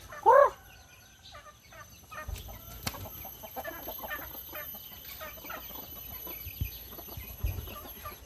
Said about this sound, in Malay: ini salah satu projek peternakan ayam kampung